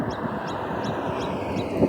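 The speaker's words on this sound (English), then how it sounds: "there's a pretty loud bird over there. It's just continuous." A loud bird calls nonstop outdoors along the road in Alaska, its repeated notes pulsing in quick regular succession over a steady rushing background with no pauses.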